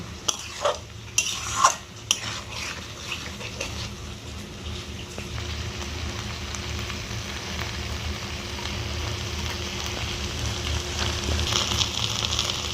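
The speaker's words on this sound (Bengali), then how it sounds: "শাকটা আমি একটু জল দেব না এইভাবে কষিয়ে কষিয়েই রান্না করব" Boiled malabar spinach and deep-fried vegetables are stirred and pressed in a pan, with clanks of a spatula early on, then a steady, moderate sizzle close by.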